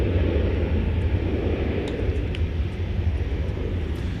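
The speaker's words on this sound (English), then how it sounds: "that's going to be the Fiji flight 891 to Nadi Airport. It is approaching the takeoff position." Airbus A350-900 jet on a Fiji flight bound for Nadi, taxiing toward the takeoff position at DFW Airport, giving a steady, continuous engine rumble that stays loud and unbroken throughout.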